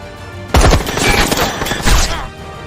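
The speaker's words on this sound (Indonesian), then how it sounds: "Salah satu anak buah Durov menembakkan senjata ke arah menara" Sharp bursts of gunfire crack out in a film battle scene, a loud volley fired toward a tower followed by more shots, with busy rattling between them.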